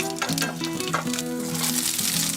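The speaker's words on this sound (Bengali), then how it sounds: "একটি কড়াই বসিয়ে এর মধ্যে এক টেবিল চামচ সরিষার তেল একটি শুকনো লঙ্কা দুইটি কাঁচা লঙ্কা আর হাফ স্পুন কালো সরিষা দিয়ে সামান্য নাড়াচাড়া করে" Dried red chilli, green chillies and black mustard seeds fry in hot mustard oil in a wok, giving a steady crackling sizzle with quick pops, close and continuous throughout.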